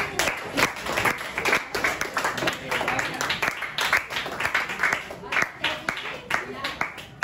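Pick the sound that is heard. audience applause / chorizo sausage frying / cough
audience applause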